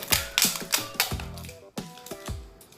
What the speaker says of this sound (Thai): เราก็จะทำการตัดสติกเกอร์ออกก่อนนะคะ